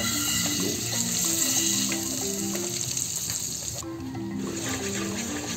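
Butter sizzling and frying in a preheated wok, a steady close crackle with no talk.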